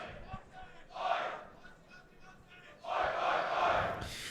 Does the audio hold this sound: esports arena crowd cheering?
yes